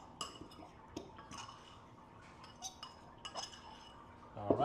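A utensil mixes sweet potato cake batter in a bowl, giving faint, irregular clinks and taps against the dish spaced through a quiet background.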